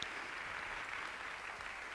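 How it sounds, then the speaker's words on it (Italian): Audience applauding at a San Patrignano event in 2014, a steady wash of clapping that holds evenly and moderately loud throughout, with no voices over it. "Un applauso veramente alla regia"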